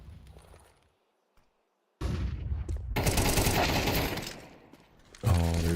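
A flashbang thrown during a competitive tactical shooter match goes off in a sharp, bright burst, then crackling gunfire and harsh noise, after a moment of near-silence, ending in a loud rattling burst.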